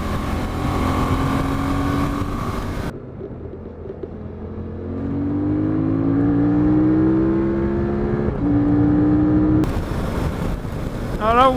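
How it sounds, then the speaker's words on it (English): Motorcycle engine revving and accelerating, picked up on a Zoom H1N recorder, with a loud rising drone that cuts out briefly and returns, climbing in pitch through several gear pulls beneath rushing wind. "I'll just cut in and out when I accelerate."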